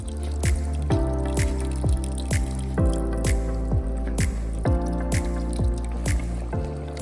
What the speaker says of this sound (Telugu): మనం పక్కన పెట్టుకున్న చింతపండు రసం కూడా వేసుకోవాలి